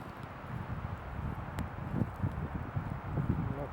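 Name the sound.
strong wind outdoors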